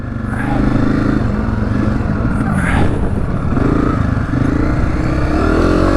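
A Honda CRF250F dirt bike ridden through the Arizona desert, its engine loud and close, droning and revving continuously with rising and falling pitch over wind rush and rough terrain, and a rider's voice briefly heard over it.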